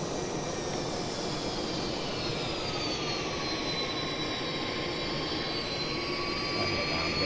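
Jet engines on a McDonnell Douglas DC-10 power down in a flight simulator, making a continuous loud roar with high whining tones that slowly sweep and glide in pitch.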